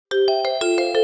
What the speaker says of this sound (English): if somebody came up to the front door and pressed the front doorbell button